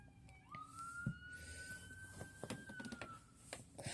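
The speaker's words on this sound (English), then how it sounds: "Waiting for the siren." A siren wails in the distance, rising and holding a long steady tone, with scattered clicks and knocks nearby.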